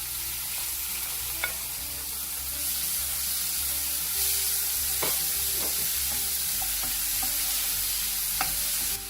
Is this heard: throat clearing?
no